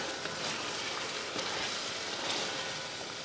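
Turmeric and coriander powder frying in oil in a pan, giving a steady, dense sizzle that hisses continuously and evenly throughout, close and fairly loud with no talking.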